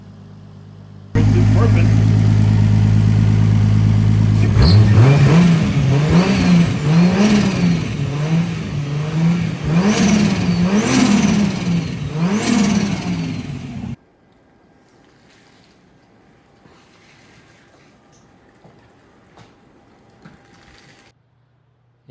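A Nissan S13 with a turbocharged 1.5JZ engine warms up with loud, close revs that climb and fall over and over for about thirteen seconds. It then cuts off to near silence, with one brief spoken word.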